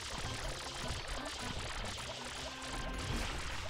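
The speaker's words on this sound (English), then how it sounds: "You can spray it with water." Water spraying in Super Mario Sunshine, a steady, fairly quiet gushing hiss that holds unbroken for several seconds with no talk over it.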